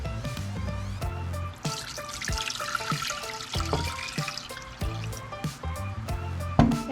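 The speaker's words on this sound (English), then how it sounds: "I'm going to go ahead and add my 4 cups of water." Water splashes and trickles into a pot on medium-high heat with clinks and knocks of cookware, moderately close and uneven.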